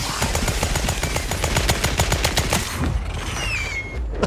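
Rapid automatic gunfire from a gun in The Outer Worlds 2, a steady stream of sharp shots for over two seconds, then stopping as game sounds and a rising whine take over.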